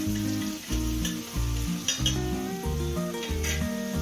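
Spice powders sizzle in hot oil in a pan for paneer shawarma. A stirring utensil scrapes and clinks against the pan in uneven, repeated strokes under a steady frying crackle, close and fairly quiet.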